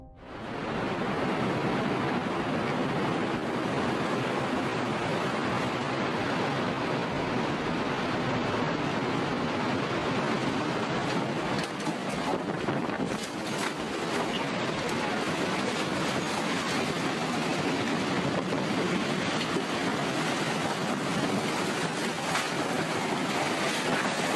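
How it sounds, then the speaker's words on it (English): Storm wind and flying debris surge through a yard past a screened-in porch, a loud, continuous roaring rush that holds steady for the whole stretch with no voices. "the life-threatening wind and debris to surge through the yard"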